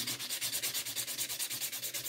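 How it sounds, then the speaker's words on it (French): An acrylic nail is buffed with a polishing block in quick, even back-and-forth strokes. The close, steady rhythmic rasping continues without pause and no voices are heard. "bloc polissoir"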